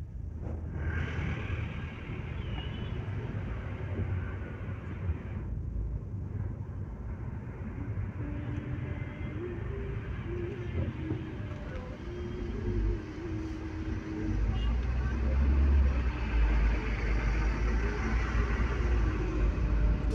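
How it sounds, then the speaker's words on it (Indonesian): Busy night traffic on Jalan Karas in Magetan, slightly congested: a steady low rumble of car and motorcycle engines passing close by, swelling louder toward the end, with no talk. "suasana malam yang penuh kendaraan dan suasana sedikit macet"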